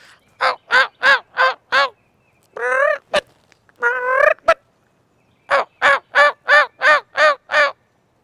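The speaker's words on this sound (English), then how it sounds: "Still gobbling, but I think he's getting further away all the time." A wild turkey gobbles in repeated rapid bursts, clear and carrying from some distance, with raspy call-like notes between the series of gobbles.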